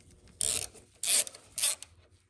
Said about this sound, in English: there is this 12mm headed bolt that has to be undone and then drain the oil